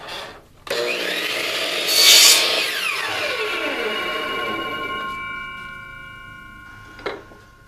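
A power saw cuts wooden strips at a 22.5-degree angle for a beehive top bar frame, a close whining cut with a falling tone that winds down, followed by a brief knock, with someone talking over it.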